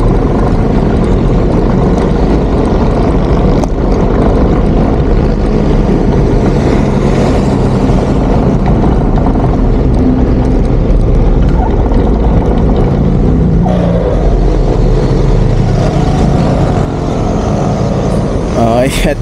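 A motorcycle engine with a broken drive belt runs loud and rough right up close, a constant droning roar with rattling noise from the side, and someone talks over it.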